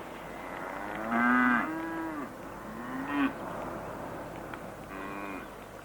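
A cow moos several times on a farm, with long, drawn-out lowing calls at moderate distance and quiet pauses between them.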